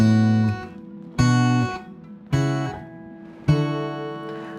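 Four guitar chords are struck one after another at an even, unhurried pace, each ringing out clearly and fading before the next.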